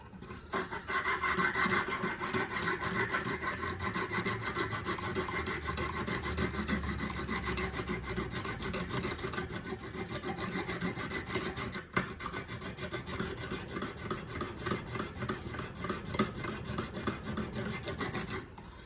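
A Mora knife blade is drawn repeatedly across the hone of a Lansky clamp-guided sharpening system, giving a steady, close, continuous rasping scrape that runs without pause and with no talking.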